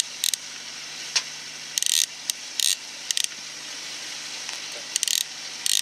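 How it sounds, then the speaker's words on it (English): Fishing rod reel on a sailing boat at sea, its drag set to roughly 2 kilos, gives short bursts of ratcheting clicks at irregular intervals over a steady low background hum. "Throwing the fishing rod in."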